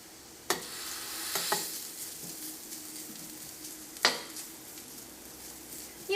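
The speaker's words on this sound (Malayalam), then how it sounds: "ഒരു മീഡിയം ഫ്ലെയിമിൽ ഇട്ടിട്ട് വേണം നമ്മൾ തേങ്ങ നമ്മൾ വറുത്തെടുക്കാൻ വേണ്ടിയിട്ട്" Grated coconut fries over a medium flame in hot coconut oil for a Kerala bitter gourd curry, a steady sizzle broken by a few sharp scrapes and clinks of a spoon against the pan.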